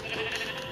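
A sheep bleats in a single brief, fairly strong call with a nasal, wavering tone.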